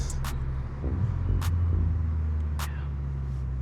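A car fitted with a Milltek race exhaust drives on the road, heard from inside the cabin as a steady low engine and exhaust drone. The drone swells briefly partway through, with a few faint sharp clicks over it.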